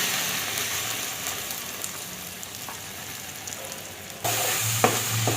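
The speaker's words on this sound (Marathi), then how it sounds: "मसाला चांगला आपल्याला तळून घ्यायचा आहे, भाजून घ्यायचा आहे." Ground masala paste fries in oil for a mutton curry with a steady close sizzle and soft stirring scrapes, jumping suddenly louder near the end as fresh paste hits the pan.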